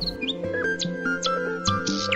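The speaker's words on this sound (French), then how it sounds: "Le rossignol s'y posa et commença à chanter." A nightingale sings a run of bright, clear chirps and whistled notes over a soft sustained musical backdrop, each phrase short and repeated at a lively pace.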